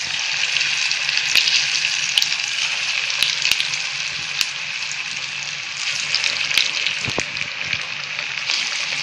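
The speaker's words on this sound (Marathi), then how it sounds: "मंद आचेवरती चांगल्या खुसखुस होईपर्यंत तळून घ्यायच्या वड्या." Slices of alu vadi crackling and sizzling steadily in hot oil over a low flame, a continuous bright fry hiss with scattered sharp pops, close and alone.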